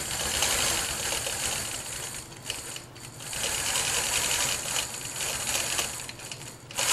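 A sewing machine stitches in the ditch on a quilt, running in a steady, close, fast mechanical whir with slight dips in speed and no voices.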